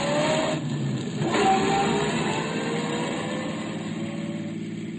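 In a radio-drama sound effect, a car drives along a city street with a steady engine hum and road noise. The engine swells briefly, then settles, with no voices.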